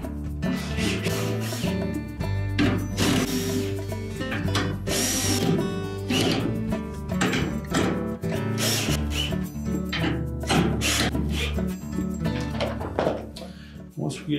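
A power drill whirs in short repeated bursts while driving screws into the brake stator of a Whirlpool washer, close and fairly loud, with a person talking throughout.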